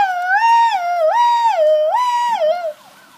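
A police car siren rises and falls in three slow, loud wailing cycles, close and clear against near silence, then fades to a faint tail at the end.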